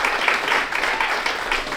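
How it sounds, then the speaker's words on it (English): Audience applause at a boxing and combat sports gathering, light scattered clapping at moderate volume, fairly quiet and brief. "round of applause"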